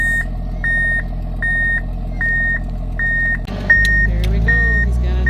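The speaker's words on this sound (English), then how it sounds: "So the truck is bringing up some fresh tailings." A mine haul truck backs up with a steady series of evenly spaced reversing beeps over a low engine drone. The engine then swells louder near the end as it carries a load of fresh tailings.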